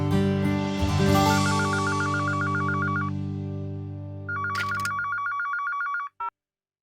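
A telephone rings in a Hindi TV drama household, two trilling bursts of an electronic ring over a swelling background music score, close and clear, without talk.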